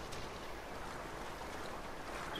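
A boat moving across water in the video game Far Cry 5 gives a steady, even rush of water wash and engine noise that continues without a break and no one speaks.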